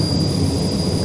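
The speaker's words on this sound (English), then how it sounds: "There's a jet on Alpha." Steady, loud jet engine roar of an aircraft in a multiplayer war video game, a continuous low rumbling drone with a high whine held throughout, with no talk over it.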